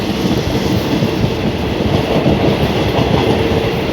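Train 254 pulling out of Hua Hin station in Thailand, a loud continuous rumble of wheels and cars on the rails, close by and steady throughout with no speech.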